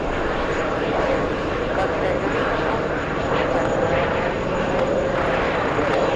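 A Lufthansa airliner landing at JFK airport gives a loud, steady broadband engine roar that holds throughout, heard outdoors from a distance, with people talking over it.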